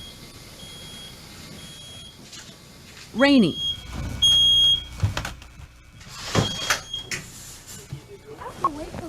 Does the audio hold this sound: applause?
no